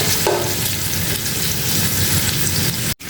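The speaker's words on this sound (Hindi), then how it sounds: "और हम इसमें 2 जो मीडियम प्याज हैं वो डाल देंगे काट के।" Sliced medium onions sizzle and fry steadily in a pot of hot oil for mutton pulao, a dense continuous crackle close by, cutting off abruptly near the end.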